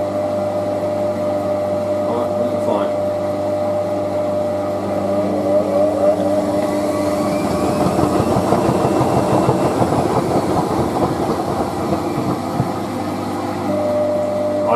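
A Hotpoint WM63 Aquarius 1100 washing machine tumbles a bathrobe load washed with Persil Gems, redistributing before spin; a steady motor hum with a drum rumble that swells and churns louder midway, close and continuous.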